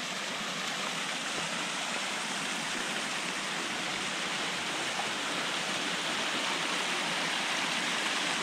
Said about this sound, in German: Das ist ein kleiner Wasserfall.